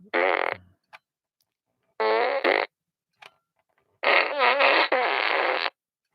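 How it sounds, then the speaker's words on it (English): A toy fart gun lets out three loud, wet, buzzy fart noises in bursts of varying length, the last one long and warbling, separated by brief silences and small clicks. "We got the fart gun."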